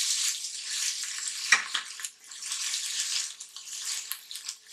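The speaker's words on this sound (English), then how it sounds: "The oil's hot. Everything's sizzling and delightful." Steady bright hiss and crackle of vegetables frying in hot oil, continuous throughout with a brief louder burst near the start.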